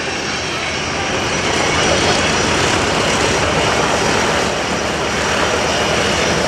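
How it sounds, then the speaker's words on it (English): Military jets take off on full afterburner at a naval air station airshow, producing a loud, steady, broadband roar that fills the whole span without letup. "And here they go, full afterburner takeoff, full left."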